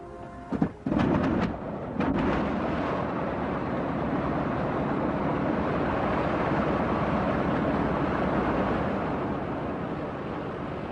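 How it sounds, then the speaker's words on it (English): Three BMW radial engines on a Junkers Ju-52 trimotor coming to life: a few ragged sputters and bangs, then a continuous heavy roar that stays loud and steady. "Starting the 3 BMW radials was a relatively simple thing"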